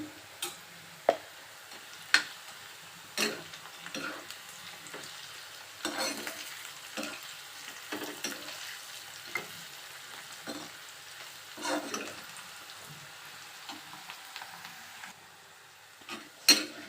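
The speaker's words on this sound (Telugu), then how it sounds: "ఇలా మంచి కలర్ వచ్చే వరకు ఫ్రై చేసుకొని తర్వాత తీసి పక్కకు పెట్టుకోవాలి" Bitter gourd and onion mixture frying in a pan, a quiet close sizzle broken by a series of sharp spatula clicks and scrapes against the pan at irregular intervals.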